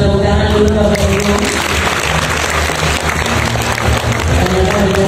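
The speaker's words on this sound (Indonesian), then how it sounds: "kita sama dengan tepuk tangan dulu Bapak Ibu" Sustained, dense applause from a large audience at a university graduation ceremony at Universitas Terbuka Ambon, steady and loud throughout without pause.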